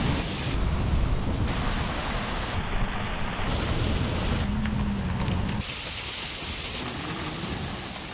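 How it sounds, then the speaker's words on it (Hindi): Very heavy rain pours down steadily at a hillside home in the mountains, a dense, loud hiss and patter of drops that holds through the whole stretch and eases slightly near the end, with no talking. "भयंकर तेज वाली बारिश लग रही है।"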